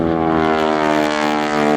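A North American T6 propeller plane flies aerobatics at an airshow in Gelnhausen, giving a loud, steady, droning roar rich in engine harmonics that holds close throughout.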